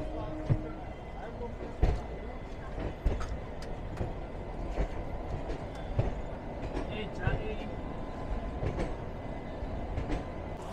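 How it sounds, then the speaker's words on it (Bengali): A train pulling into Bardhaman station in West Bengal around midday, with a steady rumble of rail cars, scattered clanks and rattles, and people talking faintly in the background. "আমাদের ট্রেন এসে পৌঁছে গেছে বর্ধমানে"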